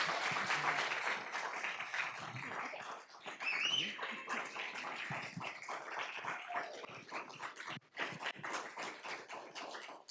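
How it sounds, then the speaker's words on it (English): Faint applause at a school board meeting for a school staff member, loose scattered clapping with sharp individual taps and a little background murmur. "Let's give her a round of applause."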